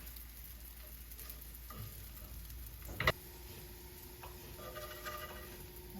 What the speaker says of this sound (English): When they're brown on one side, I flip the bread slices.